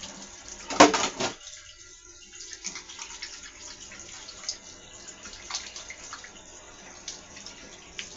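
Tap water runs into a kitchen sink, a soft steady hiss with a louder splash near the start and faint clinks of dishes in a quiet room.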